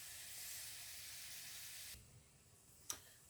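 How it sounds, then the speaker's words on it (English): A steady, soft hiss of sausage and vegetables sizzling in a pan fills the first two seconds, then quiets, followed by a single sharp click. "Got a nice sizzling noise coming from the pan"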